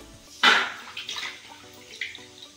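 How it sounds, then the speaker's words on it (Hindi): Soya chunks being rinsed under running tap water while cooking a drumstick curry, a sudden splash followed by softer trickling and dripping, fairly close, with no talking. "सूटी को धो ले रहे हैं"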